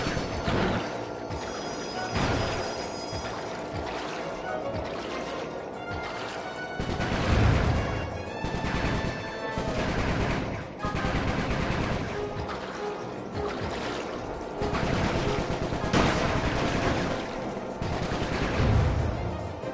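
Gunfire in the video game Sly 3: Honor Among Thieves, repeated bursts of shots and crashing impacts over music-like background sound, steady and loud throughout.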